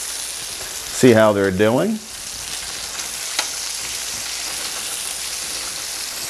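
Flour-coated chicken pieces browning in butter in a pan for chicken piccata, a steady close sizzle and crackle throughout, with a brief spoken remark near the start.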